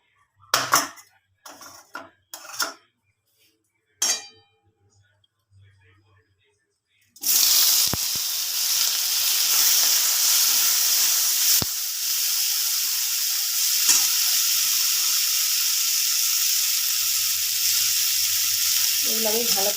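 Tomatoes and green chillies hit hot oil in a pan with a sudden loud, continuous hiss that holds steady and close after a stretch of quiet clatter and brief talking at the start.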